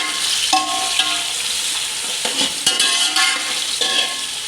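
Onions fry in hot oil in a pan with a steady, loud, close sizzle, broken by a few clinks and scrapes of stirring. No one speaks.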